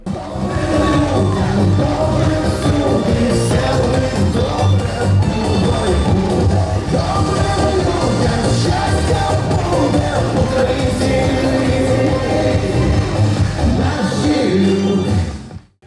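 A packed concert hall gives a singer a sustained ovation at a charity concert in Boryspil: loud, dense applause and cheering with scattered shouts and whoops, fading out at the very end.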